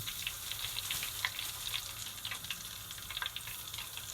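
Chicken pieces frying in hot oil, a steady close crackling sizzle with small popping spatters throughout, no voices.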